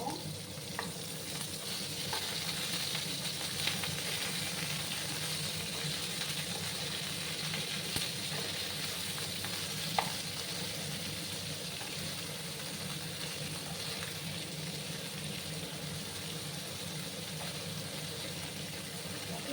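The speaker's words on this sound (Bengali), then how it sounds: "আমি এগুলোকে একটু ভাজা ভাজা করে নেব ডাটা আর আলুটাকে" Bottle gourd green stems and potato frying in a pan, a soft continuous sizzle with occasional clicks of stirring and a faint low hum in the background, no one speaking.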